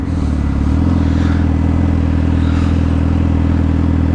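A Suzuki SRAD 750 sport motorcycle engine running close to the microphone, a loud, steady high-rpm drone with a dense harmonic buzz and a slight rise in pitch early on, with no talking.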